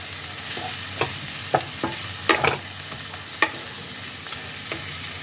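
Palak paneer ingredients with kasuri methi being stirred in a pan: a steady sizzle under a scattering of sharp spatula scrapes and clicks, close by, with no voices.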